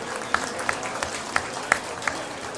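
Scattered applause from a crowd at a beef cattle showmanship competition for an intermediate class, with a handful of distinct claps over a low murmuring background.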